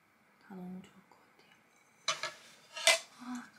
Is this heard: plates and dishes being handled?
yes